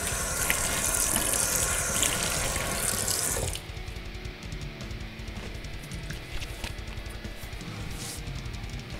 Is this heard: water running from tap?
yes